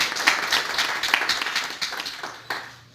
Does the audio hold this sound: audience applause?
yes